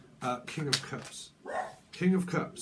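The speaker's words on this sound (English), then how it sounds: "Sorry for the dog." A dog barks in the background with a few sharp, moderately loud bursts while someone talks steadily over it.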